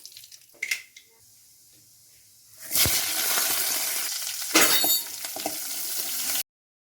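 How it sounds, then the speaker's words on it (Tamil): Mustard seeds hit hot oil while tempering rasam, bursting into a loud, crackling sizzle after a few quiet seconds of light handling noise, the popping fizz continuing steadily before cutting off abruptly. "எண்ணெய் சூடாயிடுச்சுங்க கடுகு சேர்த்துக்கலாம்"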